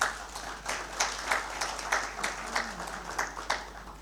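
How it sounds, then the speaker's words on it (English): Applause from a conference audience of accountants, steady scattered clapping that stays moderately loud and continuous, heard at some distance in a large room. "May we give a round of applause to everybody who I have recognized."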